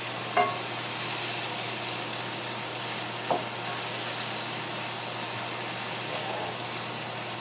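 Chopped tomatoes frying and softening in a pan while vegetables cook for a home-made meal, a steady soft sizzle running throughout with a few faint stirring clinks and knocks, no voices.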